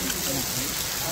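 Rain falls in a steady, close, broadband wash for just over a second, with a faint murmur of voices underneath.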